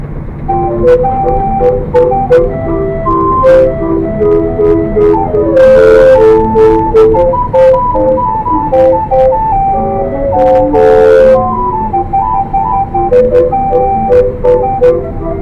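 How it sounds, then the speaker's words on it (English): A steam calliope plays a bright, tooting tune of sustained whistle-like notes, loud and close, with a steady melodic rhythm and no talking. "The calliope sounds like this."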